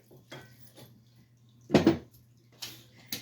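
Water poured into a mixing bowl of bundt cake batter with eggs and oil in a home kitchen, heard as one brief splashing burst between soft clinks and a few faint taps.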